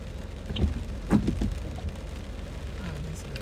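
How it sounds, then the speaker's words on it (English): Heavy rain drumming on a car while driving past a hospital, a steady close patter on the body and glass with a few louder thumps and low rumble. "Oh, this rain."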